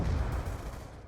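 A grenade blast in Call of Duty: Black Ops II lands as a deep, rumbling boom that fades out over about a second, heavy in the low end and heard alone.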